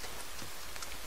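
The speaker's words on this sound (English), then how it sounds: "building a campfire, it starts to rain." Steady rain falls in the survival video game The Forest, a dense, even hiss of drops on surfaces that fills the whole second with no voices.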